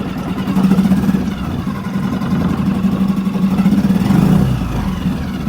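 A Suzuki outboard boat engine runs at a steady idle, a close, even mechanical hum with a faint rhythmic chug throughout.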